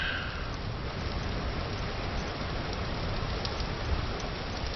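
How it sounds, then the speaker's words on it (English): Steady, dense rain hisses evenly and close by, with faint raindrop ticks scattered through the wash and no voices. "Rain."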